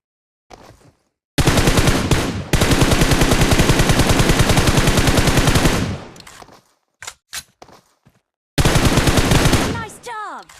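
Automatic weapon fire in a PUBG tutorial: a short early burst, then two long, loud rapid-fire bursts. Scattered single shots follow, then a final burst with ringing tails.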